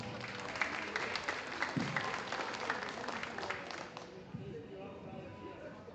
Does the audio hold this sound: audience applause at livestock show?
yes